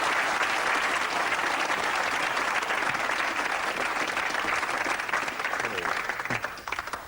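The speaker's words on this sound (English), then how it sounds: "Give a big round of applause for them." A studio audience claps in sustained, full applause that holds steady before tapering slightly toward the end, with faint voices mixed in.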